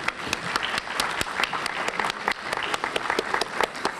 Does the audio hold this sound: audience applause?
yes